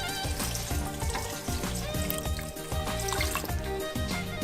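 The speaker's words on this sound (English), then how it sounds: "So now I'm gonna add 4 cups of water" Water poured from a cup into a pot of frozen okra makes a bubbling, splashing trickle with rhythmic gurgles, close and moderately loud.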